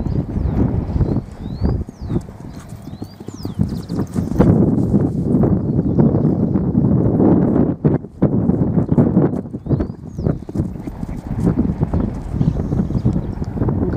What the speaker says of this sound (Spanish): Un caballo que tiene una polenta bárbara